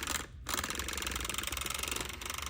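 A small electric power whisk mixes Keto Chow powder into liquid with a close, buzzing whir that drops out briefly near the start and then carries on steadily.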